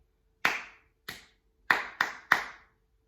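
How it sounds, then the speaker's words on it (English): Five sharp hand claps in an uneven rhythm pattern, close and clear in a quiet room, with gaps between the first claps and the last three coming quicker. "see if you can clap it just like I did"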